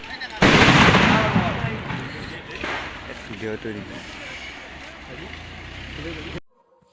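A firecracker at the 67th Go-Puja festival gives one sudden loud bang, then a decaying crackle and rumble under crowd noise, with someone talking nearby.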